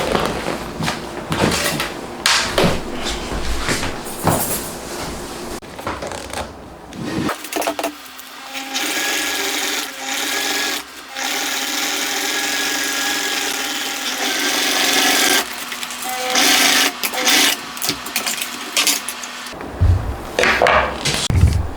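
A sewing machine stitching a motorcycle seat cover runs in bursts, a rapid mechanical whir of stitching that starts and stops several times, close and fairly loud.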